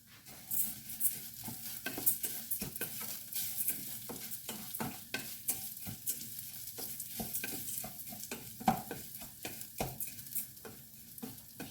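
Rice being stirred with garlic and ginger in a hot pan, a soft frying sizzle under busy, irregular scraping and clacking of a utensil against the pan, close and fairly quiet, no voices.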